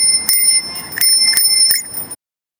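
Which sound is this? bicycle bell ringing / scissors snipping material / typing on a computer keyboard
bicycle bell ringing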